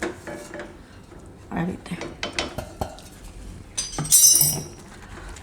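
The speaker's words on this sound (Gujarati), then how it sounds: "હું બધું મિક્સ કરી દઉં" A spoon stirs crumbled leftover roti into milk in a pan, clinking and scraping against the metal in uneven bursts, with a brief spoken phrase near the end.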